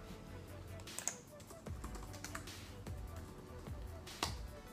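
Typing on a laptop keyboard, with scattered light key clicks and a few sharper taps close by over a low steady background hum.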